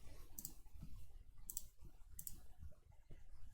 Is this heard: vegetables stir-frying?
no